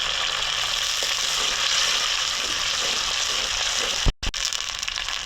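Cinnamon, cardamom and bay leaves sizzling in hot oil, a steady loud hiss and crackle of frying that runs without a break, cut by a brief dropout near the end before resuming.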